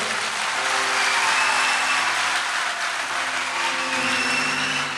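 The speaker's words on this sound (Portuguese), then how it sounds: "Dê uma salva de palmas ao Senhor." A church congregation applauds during a sermon, giving a round of clapping to the Lord; the sound is a loud, continuous, dense wash of hands with a low steady hum under it, and no voices stand out.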